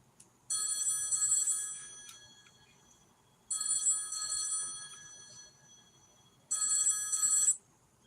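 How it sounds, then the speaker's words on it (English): A telephone rings in three bursts of bright electronic bell trills, each lasting about a second and a half, separated by roughly two-second pauses, clear and moderately close with a quiet room behind. "What did you hear? A phone ringing."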